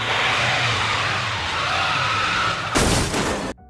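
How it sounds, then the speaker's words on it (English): In a Family Guy cartoon scene, a Prius straining to tow a statue roars and strains steadily, then a sudden loud burst of tearing metal as the car rips in half, cutting off abruptly. "Brian literally ripped his car in half after trying to tow away a statue"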